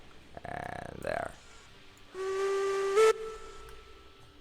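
Mogul steam locomotive whistle in Railroads Online, a short first blast followed by a longer sustained steady toot, with hissing steam around it.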